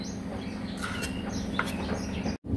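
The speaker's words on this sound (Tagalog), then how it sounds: "yung mga ibon ko may background na naman" Pet birds chirp faintly in the background of a home kitchen, giving a few brief, thin tweets over a steady low hum of room noise.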